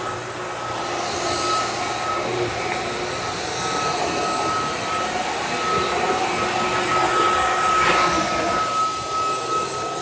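Dreame H15 Pro vacuum cleaner running over a hardwood floor, a continuous close motor hum and airflow rush holding at an even level with slight swells.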